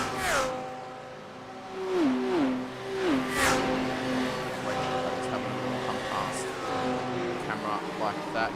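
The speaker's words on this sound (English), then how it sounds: "Great to hear all the car sounds." Race cars in a sim racing endurance event at Daytona rev and shift through gears, engine tones rising and falling steadily across the clip while a commentator talks over them.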